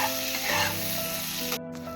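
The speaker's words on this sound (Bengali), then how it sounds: "এটাকে আমি কিছুক্ষণের জন্য ভেজে নেব।" Eggplant pieces seasoned with turmeric and salt fry in hot oil, giving a loud, steady sizzle with a brief stir partway through; no voices.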